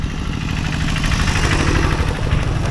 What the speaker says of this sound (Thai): รถไถเพิ่นกำลังขนอ้อยไปห้องงานพี่น้อง